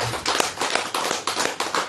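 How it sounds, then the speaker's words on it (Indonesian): An audience at a religious talk claps together, a dense, steady patter of many hands with a few sharper, louder slaps standing out over roughly two seconds. No voices can be heard over it. "Tepuk tangan."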